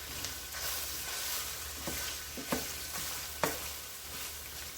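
Ground meat for red beer chili is chopped and broken up with a utensil in a hot French oven, irregular knocks and scrapes over a constant sizzle of browning, close and without talking.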